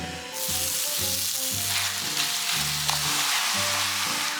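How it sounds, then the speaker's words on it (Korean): Loud, steady sizzling of tomato sauce being stir-fried in a pot, with a low mechanical hum pulsing underneath throughout. "토마토 소스가 눌러붙지 않게 계속 볶아줘야 되는데"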